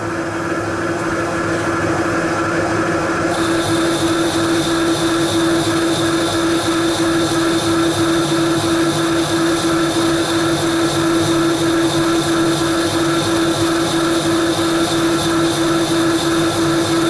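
A metal lathe cuts a steel backplate for a Bison 4-jaw chuck, a loud, constant machining drone with a strong steady tonal hum and no break in sound.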